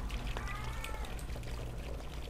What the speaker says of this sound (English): Hey, it's a cat.